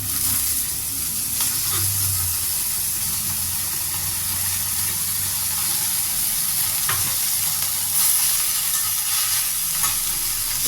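Mint and coriander leaves sauté in a hot pan with a steady, close sizzle and hiss, with occasional soft stirring scrapes.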